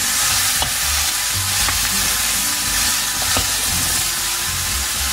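Onions and carrots stirred and sizzling in a frying pan, a steady close frying hiss with soft scraping and clinks of the utensil throughout, no voices.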